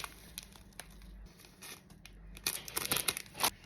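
Instant noodle seasoning and sauce sachets are torn open and their contents shaken out, making crinkling plastic rustles and sharp tearing sounds that grow busier and louder toward the end.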